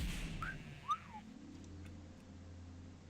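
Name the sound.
character whistle emote in World of Warcraft video game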